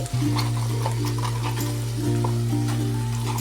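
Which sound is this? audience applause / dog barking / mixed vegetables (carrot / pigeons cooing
mixed vegetables (carrot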